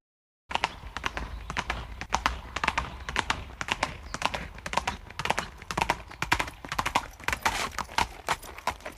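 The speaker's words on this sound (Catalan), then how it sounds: "Clop, clip, clop, fa el meu cavall negre." Hooves clip-clop in a rapid, uneven stream of sharp, close taps, fairly loud and continuing for about eight seconds without any voices.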